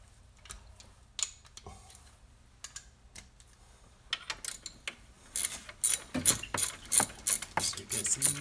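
A ratchet wrench clicks on the belt tensioner of a Subaru engine during engine removal, with sparse quiet clicks at first, then faster, louder bursts of ratcheting near the end.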